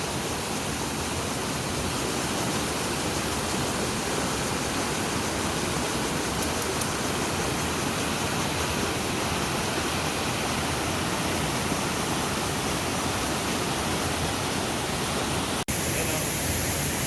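Floodwater rushes steadily after a sudden flood near a home in the Philippines, a dense, continuous roar like a stream or waterfall that stays loud and unbroken throughout.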